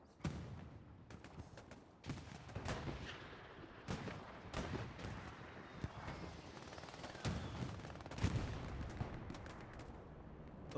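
Gunfire and distant artillery booms from the World War II shooter game Hell Let Loose during a full match, with scattered shots and rumbling blasts coming in irregular bursts at fairly low volume.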